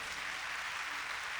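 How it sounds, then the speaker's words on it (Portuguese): A church congregation applauding, dense continuous clapping from many hands that fills the space evenly, steady and fairly loud with no pauses. "Dê um aplauso bem forte ao Senhor"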